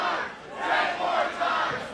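Crowd at a pro wrestling fight roaring and chanting in waves, a loud, continuous mass of voices rising and falling in rhythmic swells.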